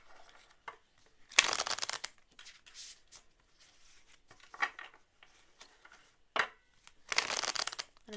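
Tarot cards are shuffled by hand in irregular papery bursts of riffling and sliding, some longer and louder, separated by quiet pauses, with no talk.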